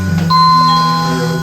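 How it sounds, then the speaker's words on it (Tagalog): A doorbell chimes once with a clear ding-dong, up close and loud, its tone ringing out and fading slowly with nothing else heard. "Akin na yung doorbell, lipat yung dito."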